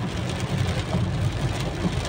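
Steady rain drumming on a car while driving, a dense close wash of noise with low road rumble underneath, continuous and fairly loud with no talking.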